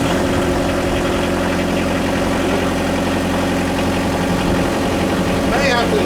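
A Kubota KX121 excavator, its motor damaged by flood water, runs at a steady loud idle with a constant low rumble and vibration throughout, close by.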